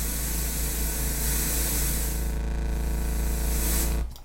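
A white noise riser built in the Serum synthesizer plays as a loud, steady broadband hiss for about four seconds, then cuts off abruptly.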